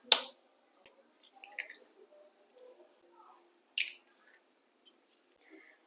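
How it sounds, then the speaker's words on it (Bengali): Two eggs crack against a bowl for egg toast, two sharp distinct taps a few seconds apart, each followed by soft wet sliding and dripping sounds in a quiet kitchen. "ডিমটা এখন ফাটিয়ে বাটির মধ্যে দিয়ে দেবো।"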